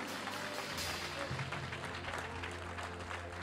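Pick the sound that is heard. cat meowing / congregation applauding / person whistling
congregation applauding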